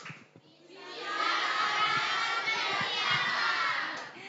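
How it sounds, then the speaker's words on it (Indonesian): An audience at a pesantren event for an ASEAN-level competition winner breaks into applause and cheering. The sound swells after a quiet start and stays as a dense, fairly distant wash of clapping. "tepuk tangan buat semuanya"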